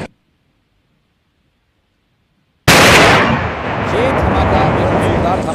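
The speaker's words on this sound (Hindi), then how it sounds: "ये जो ब्लास्ट की आपने आवाज सुनी" A controlled detonation of a recovered IED of about 50 kg in the Bijapur forest: after silence, one sudden, very loud blast erupts and its heavy roar and rumble carry on and slowly fade.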